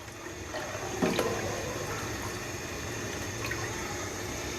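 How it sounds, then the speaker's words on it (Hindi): Water poured into a cooking pot of lentils and meat for daal gosht, a soft steady splashing and trickle throughout with a brief clink near the start, no talking. "तो 3 गिलास इसमें मैंने पानी डाल लिया है।"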